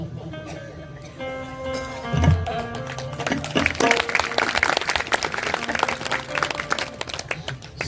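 An audience claps together during a kirtan, a dense burst of applause building after a stretch of someone speaking and continuing steadily to the end.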